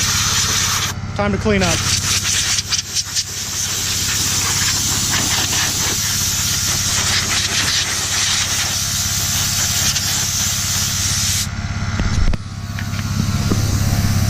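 Compressed air blasts steadily from an air blower on a coil hose fed by a VIAIR compressor, a loud continuous hiss lasting nearly the whole stretch with a brief break near the start, while someone talks over it.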